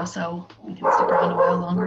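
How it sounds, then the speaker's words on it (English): A dog barks and yips repeatedly and quite loudly in a home setting during an online work meeting, overlapping a man's speech. "Apologies for the dog."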